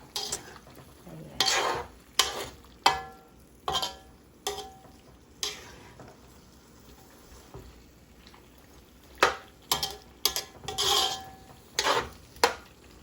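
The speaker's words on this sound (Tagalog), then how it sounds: "Kunting halo guys." A spatula stirs chopsuey in a frying pan, a dozen or so distinct scraping strokes coming in uneven bursts over a quiet, faint background.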